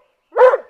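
A single short, close dog bark used as an audiobook sound effect, one sharp loud yelp standing alone against silence.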